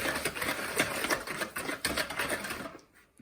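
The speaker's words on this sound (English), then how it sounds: "Using just a whisk, you're going to mix it together." A hand whisk beats melted butter and brown sugar for brownies, a fast rhythmic scraping and clicking against the bowl, close and steady before it stops abruptly.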